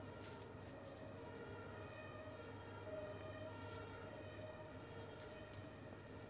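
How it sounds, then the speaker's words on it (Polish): A distant ambulance siren wails faintly beneath steady background hum, staying low and far off throughout without clearly drawing nearer. "Tak, karetka jedzie."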